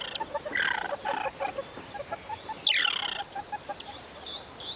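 A group of mongooses living alongside elephants chirp angrily in a chattering, rapid series of high calls and squeaks. The sound is moderately close over steady outdoor background noise.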